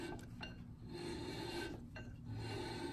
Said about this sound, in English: So I'm going to spin the drum